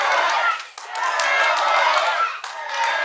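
A wrestling crowd at a tournament final claps and cheers, dense rhythmic clapping with crowd noise throughout, loud and close, with a commentator talking over it.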